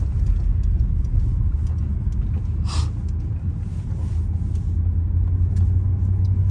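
A tuned Audi RS7 with over 700 horsepower passes loudly nearby, its deep engine rumble steady throughout with a brief brighter burst midway and no talking.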